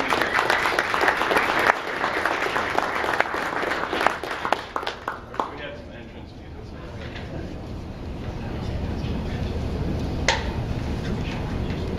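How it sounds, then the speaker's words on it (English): An audience claps for panelists at a freelancing panel at a web developers' meetup, a dense burst of applause that thins after about five seconds into room murmur, with a few stray claps and a voice speaking near the end. "Let's give them a round of applause."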